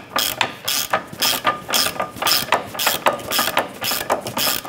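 A ratchet snugs down the nut and bolt on a control arm of a 2006-2013 Chevrolet Impala, giving a steady run of rapid close clicking strokes in repeated bursts with no talk.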